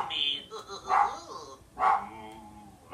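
Cartoon dogs bark in The Simpsons Game, three loud separate yelping barks spaced about a second apart, with game sounds and a low background hum between them.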